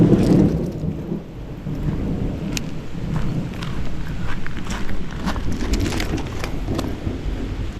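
Steady rain falls outdoors by a creek with a constant hiss and scattered patters, accompanied by low rumbling in the background.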